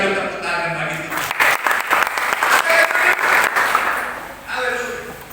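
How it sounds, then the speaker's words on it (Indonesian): Congregation applause during a Christmas church service: loud, close clapping with irregular bursts, mixed with voices and a cheer, rising and then tapering off after a few seconds. "Berikan dulu tepuk tangan bagi Tuhan."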